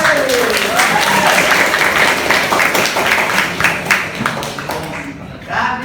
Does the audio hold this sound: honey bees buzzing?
no